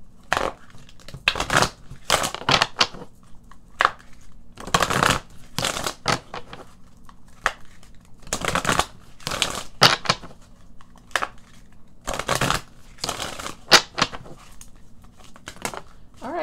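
Tarot cards are shuffled and slapped onto a table in a series of quick, crisp bursts, near and fairly loud against a quiet background.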